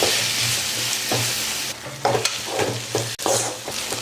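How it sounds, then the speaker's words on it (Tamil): Sliced onions with a pinch of salt fry in an oiled pan for egg varuval, giving a steady close sizzle with bursts of stirring and scraping and no talk. "வெங்காயம் வதங்கிறதுக்காக கொஞ்சமாக சால்ட் போட்டுக்கிறேன்."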